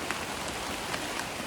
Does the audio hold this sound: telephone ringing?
no